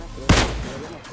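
A single loud sniper rifle shot in a video game cracks sharply up close and trails off into a short, fading echo.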